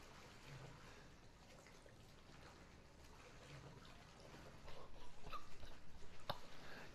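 A character wading through dark water in Resident Evil 7, a low continuous sloshing and trickling that swells louder toward the end, with a faint sharp knock near the close.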